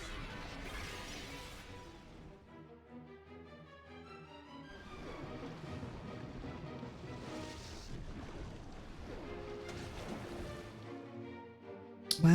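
A rain-boosted Surf attack striking Kyogre in a Pokémon video game: a rushing, wave-like water effect that swells and fades over several seconds against a soft musical background.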